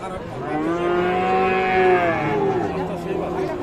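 Cattle, including Friesian and crossbred bull calves about five months old, moo with long, drawn-out lowing calls that overlap one another, loud and close, over the background murmur of a busy crowd at a livestock market.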